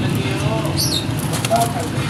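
Pigeons at a market flap their wings in short bursts beside a few faint coos, set against steady background noise while someone talks close by.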